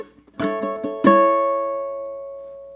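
Ukulele chord hits in a country strumming pattern: three quick clipped strums followed by a final ringing chord with an extra strum that sustains and slowly fades, played alone and up close.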